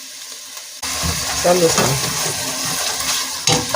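Ground beef and white onion sizzle and fry in a pan, starting abruptly and crackling steadily with stirring noises, while a person talks briefly over it.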